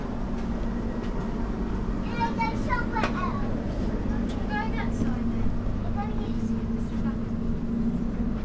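A steady low rumble and hum fill a moving passenger train coach fitted with toilets. Children's voices and chatter rise intermittently over the constant running noise.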